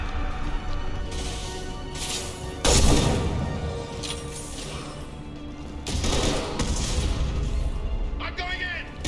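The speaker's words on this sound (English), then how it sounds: "Firing a high-impact shot!" Gunfire in the Mass Effect 2 video game, with bursts of rapid shots and heavy impact blasts scattered across the clip, loud and punchy, mixed with game noise and voices speaking over it.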